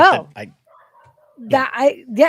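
Dogs barking in a home, heard as short yips and barks in the middle while people talk before and after.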